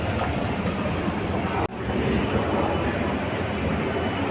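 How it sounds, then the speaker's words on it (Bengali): A metro train at Dum Dum metro station in Kolkata gives a steady, loud rolling rumble that dips sharply for a moment midway, then carries on evenly. No one speaks. "তো এই হলো দমদম মেট্রো স্টেশন"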